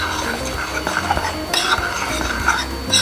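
A spoon stirs dry cornbread ingredients (cornmeal, flour, sugar, baking powder, baking soda, salt) in a bowl, giving close scraping and clinking against the bowl in an uneven rhythm with no talk.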